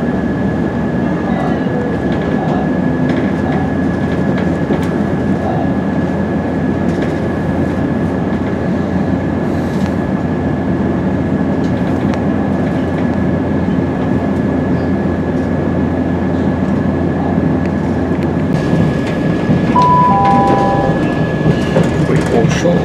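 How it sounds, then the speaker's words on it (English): Passenger train on the Yorkshire Coast Line on a winter run, heard from inside: a steady, loud rumble of the carriage, with a continuous tone throughout and brief squealing near the end. "We will shortly be arriving at Scarborough, where this train terminates."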